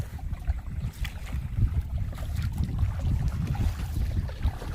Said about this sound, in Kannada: ಗಾಳಿ ಬೀಸ್ತಾ ಇದೆ